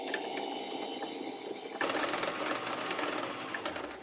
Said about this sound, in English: And then we continue to wind our bobbin.